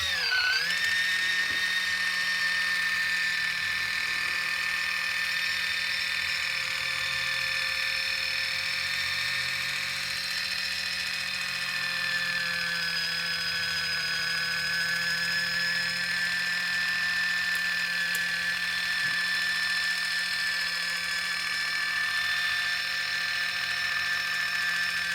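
A Kitchen Mama electric can opener runs on a can with a steady, even motor whine and high gear hum that holds unbroken for the whole stretch, close and moderately loud, without speech.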